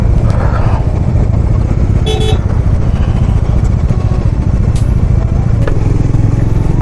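Motorcycles and cars crowd the dusty road to Khardung La, a loud continuous engine roar and rumble with short horn toots sounding over the traffic.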